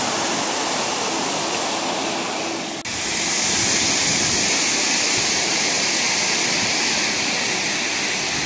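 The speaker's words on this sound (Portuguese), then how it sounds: "ali é a cabeceira da Cachoeira Danta, tá?" Cachoeira Danta waterfall in Serra da Canastra roars as a loud, constant broadband rush of falling water, briefly dipping once before resuming just as steady; no one speaks.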